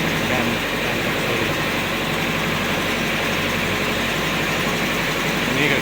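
A pink motorboat on the Mekong churns along with a steady, low engine drone that holds unchanged throughout, close by and fairly loud, with voices faintly underneath.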